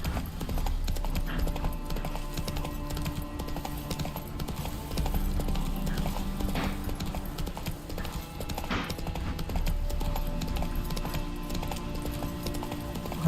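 Rhythmic galloping hoofbeats of the horse Roach in The Witcher 3: Hearts of Stone, a steady clip-clop pounding that runs almost unbroken, close and prominent, over game ambience with no one talking.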